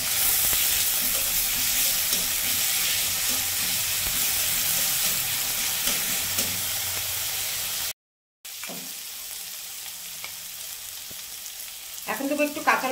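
Garlic paste, with chopped chilli already in the pan, fries for a chicken liver dish in a loud, steady, hissing sizzle that cuts out briefly, then returns softer with some clinks and stirring near the end.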